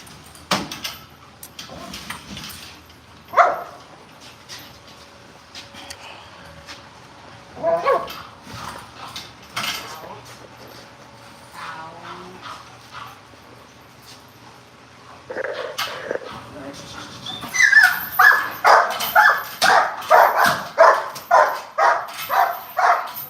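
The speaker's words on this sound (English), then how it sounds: "Hero, the reason why his bark is a little lighter is he's still playing a game" A dog barks during bite work training. Sparse, lighter barks with pauses come first over quiet background, then a rapid run of loud, regular barks builds toward the end.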